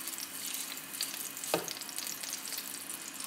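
Beef for a Russian sour-cream beef dish fries in a pan with a steady, close oil sizzle, and a single sharp stir or clatter cuts in about halfway through.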